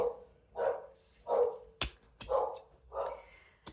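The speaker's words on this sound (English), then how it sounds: "Sorry about my dogs." A dog barks repeatedly, about five sharp barks at a steady pace, somewhat distant, with a couple of knocks between them.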